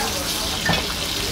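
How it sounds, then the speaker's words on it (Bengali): Fresh hilsa fish from the Padma riverbank frying in a restaurant, giving a steady, close crackling sizzle of hot oil with a brief louder stir or spatter partway through. "দেখুন, ইলিশ মাছ ভাজছে, একেবারে তাজা ইলিশ পদ্মার পাড়ের।"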